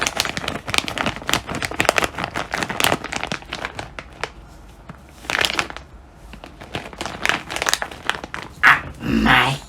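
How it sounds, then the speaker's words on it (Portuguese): A candy packet is crinkled repeatedly in bursts of sharp plastic rustling while a dog pants and snuffles close by, with a brief pause in the middle before more crinkling. "Agora eu vou pegar o barulhinho do pacotinho de doce dela."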